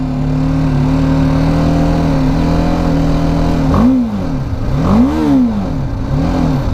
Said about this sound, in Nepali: एक्जस्टको नोट यस्तो छ